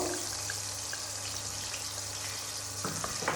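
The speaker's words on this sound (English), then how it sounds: "Really don't need to fry our garlic a lot" Garlic sizzles gently in oil in a paella pan, a soft, even crackle with a faint low hum, fairly quiet and undisturbed until a brief clatter near the end.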